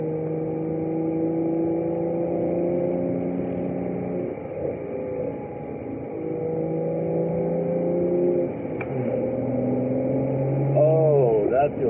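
BMW F30 335i with a six-speed manual and its clutch delay valve removed, engine revving and pulling through gears with rising and falling tones and a quick shift, heard from inside the car.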